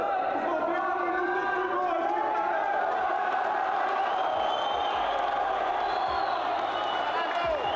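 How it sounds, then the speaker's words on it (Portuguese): Organized Santos football supporters in packed stadium stands at a match against RB Bragantino, a sustained distant roar of chanting and cheering voices that swells and continues without pause. "Isto é torcida organizada, né?"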